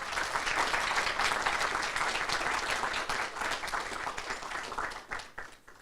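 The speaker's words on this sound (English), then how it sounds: "Can I get everybody to give the panel a round of applause?" Sustained applause from a panel-event audience at a university careers evening, dense steady clapping that holds loud for several seconds and then thins and fades toward the end.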